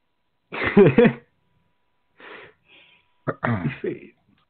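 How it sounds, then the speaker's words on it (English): A man coughs and clears his throat in a few rough bursts, close by, with short pauses between them and no talking. "Where he just coughs again."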